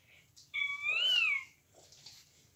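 A single drawn-out cat meow, clear and close, rising then falling in pitch over about a second, with quiet background before and after.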